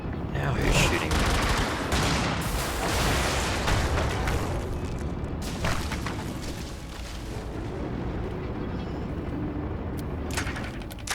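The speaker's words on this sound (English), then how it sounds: "Now he's shooting me." Enemy mech gunfire in the video game Brigador, sustained heavy bursts and explosions rumbling loudly throughout, with intermittent shots layered over a dense battle din.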